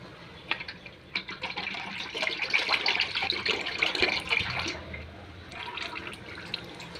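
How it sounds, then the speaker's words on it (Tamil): Oil for a herbal hair-oil preparation is poured from a container into a large kadai on the stove, giving a faint, trickling, splashy liquid sound with small irregular drips and a softer tail at the end. "இப்போ எண்ணெயை தூக்கி அதில் ஊற்றணுங்க"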